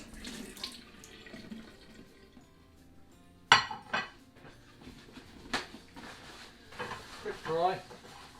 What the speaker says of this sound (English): Give this plate a little bit of a rinse.